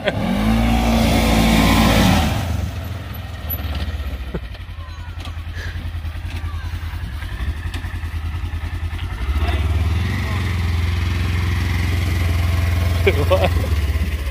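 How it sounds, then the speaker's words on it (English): Polaris Ranger High Lifter UTV engine, a 2020 model, drifting during creek riding: a loud steady engine drone that dips slightly mid-clip then swells again as it revs back up, continuous throughout, with voices talking over it. "Just drifting the high lifter."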